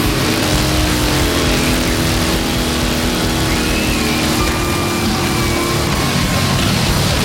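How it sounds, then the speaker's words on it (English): A vehicle engine at full throttle during a burnout at the Sturgis rally, a loud, sustained roaring drone with rising revving tones that never lets up. "Ready to see a burnout, Sturgis?"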